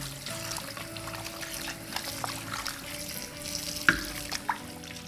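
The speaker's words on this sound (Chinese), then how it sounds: "好，剁完之后呢，我们给它洗一洗。" Chopped fish being rinsed under a running kitchen tap, a steady close pour of water splashing in a sink with a few clinks and knocks.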